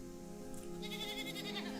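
Tree-climbing goats in the arid landscapes of southwestern Morocco let out a short, faint, wavering bleat, with a steady low hum running under it.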